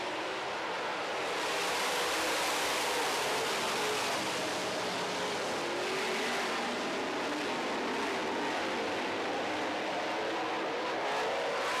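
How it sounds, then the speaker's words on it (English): Late model race cars run on an oval track, their engines blending into a dense, steady, distant roar that persists throughout without any talking. "We're going to go late model racing here."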